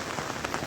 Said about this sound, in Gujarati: વરસાદ બહુ જ ભરપૂર પડે છે.